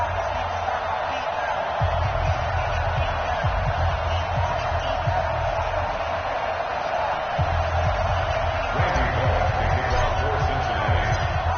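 Steady stadium crowd roar from a Baltimore Ravens versus Cincinnati Bengals NFL game in an EA Sports football video game, a constant wash of distant cheering with low thumps, running under continuous commentary.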